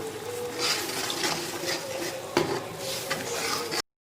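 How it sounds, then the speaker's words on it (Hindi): Spice masala of turmeric and crushed chilli being stir-fried in oil in a pot, with a steady close scrape and clatter of a spoon against the pot over a soft continuous sizzle and one sharper knock. "इसको अच्छे तरीके से हम भूनते हैं"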